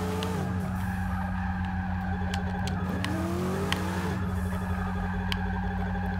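A car's tires skid and scrub with the handbrake engaged, a steady engine drone underneath and sweeping tonal squeal rising and falling across the stretch.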